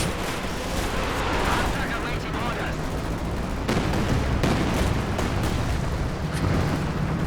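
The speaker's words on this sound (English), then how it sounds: "A lot of shots missing." Gunfire and explosions crackle through a Company of Heroes 2 battle between tanks and infantry, with dense overlapping shots and booms under steady commentary.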